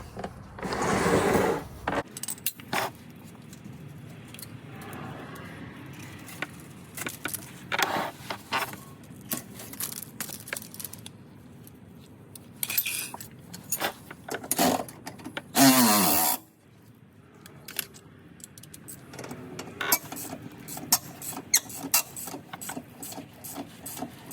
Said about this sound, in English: now we're gonna go ahead and tighten up the lower mounting bolt.